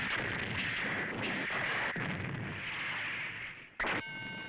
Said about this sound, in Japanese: 照準セット完了、発射準備 OK。 よし、発射だ。